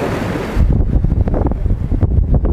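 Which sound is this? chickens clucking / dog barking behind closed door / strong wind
strong wind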